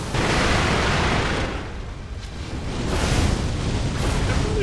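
Fireworks bursting from a sword in the video game Sekiro: a dense, loud, continuous roar of crackling explosions and booms with no pauses, dipping briefly midway before swelling again.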